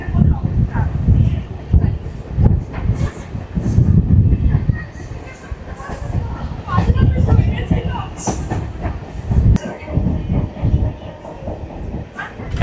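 A local train on the Bandel to Naihati line rumbles along the rails, a loud, continuous rolling roar with rhythmic swells and clattering wheel beats, heard from on board.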